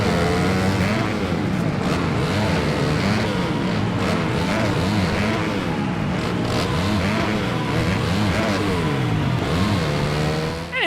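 Dirt bike engines in the game MX vs. ATV Supercross whine and rev continuously and loudly, with pitch rising and falling as the bikes accelerate, shift and pass.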